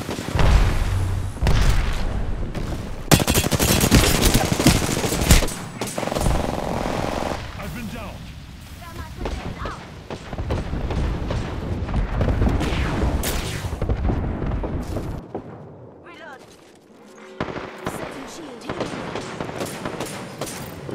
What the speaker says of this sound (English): Signaling an airstrike.